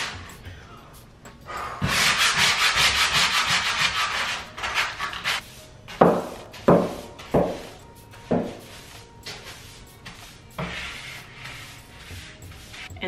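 Dried spackle on an interior bathroom wall being sanded by hand, with repeated scraping strokes, a long continuous stretch followed by shorter rhythmic rubbing passes, close and fairly loud with no talk.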